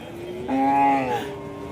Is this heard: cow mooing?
yes